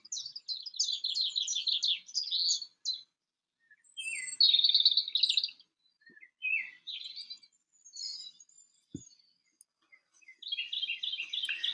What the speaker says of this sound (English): the air was full of the carol of birds that hailed the dawn